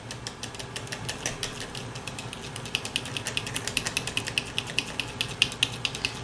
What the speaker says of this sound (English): I brought over a little whisk